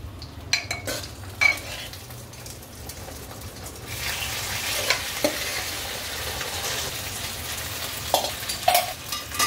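Wheat kheer being stirred into fried dry fruits and coconut in a pan: clinks and scrapes of a spoon against the pot at first, then a steady wet sizzle and bubbling as the mixture cooks, close by, with no talking.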